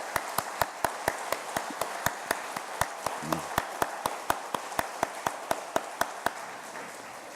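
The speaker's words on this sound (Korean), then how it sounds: "힘내라고 우리 큰 박수로 한번 격려해 주시면 좋겠습니다" A congregation at a Sunday evening church service claps in steady unison, with sharp, evenly spaced beats at about three per second that continue for several seconds and fade slightly at the end.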